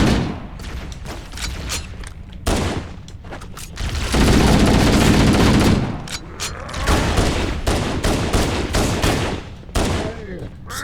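Dense Halo gunfire, pistol shots mixed with sustained assault rifle bursts, rattles loudly and closely in near-continuous volleys with brief gaps, among heavy in-game explosions and combat noise.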